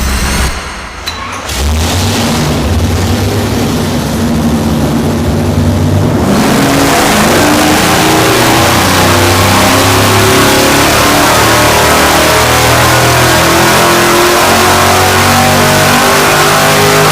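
A supercharged engine on a dyno fires up and revs hard and loud, with a brief quieter stretch at the start, then a sustained roaring drone that holds for over ten seconds.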